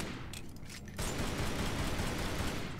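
Gunfire in the video game Tomb Raider: Anniversary: a quieter stretch gives way after about a second to a loud, sustained burst of rapid shots that continues to the end, with no talking.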